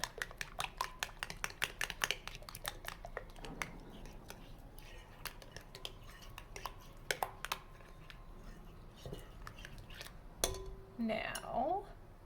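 Fluffy slime ingredients being stirred in a bowl make quick clinking and scraping taps of a utensil against the bowl, close and fairly faint, with scattered knocks and a brief rustle near the end.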